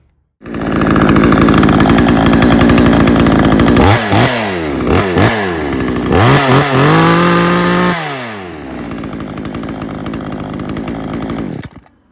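A Timber Pro CS 6150 chainsaw bursts into life and runs loudly up close, idling, then revving several times in quick blips before dropping back to a steady idle and cutting off.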